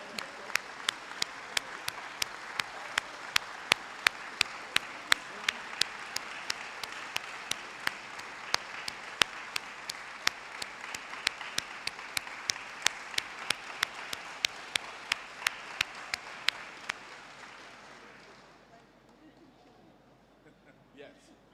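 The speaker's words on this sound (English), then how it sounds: "Can I ask that we really give a round of applause?" Audience applause at a research awards ceremony, a sustained roomful of clapping with sharp individual claps standing out, holding steady for about seventeen seconds before fading away to near silence.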